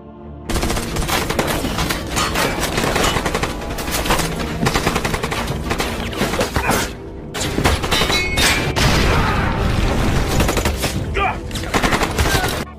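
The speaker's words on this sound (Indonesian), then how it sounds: "Vance terlibat baku tembak sengit dengan mereka" Rapid bursts of automatic gunfire and sharp shots rattle almost nonstop during a shootout in a toy store, with a brief lull midway before the loud shooting resumes.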